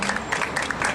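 Audience applause at a Korean labor struggle cultural evening, following a poetry recitation: a brief burst of steady, moderately loud clapping from a crowd, with no voices over it.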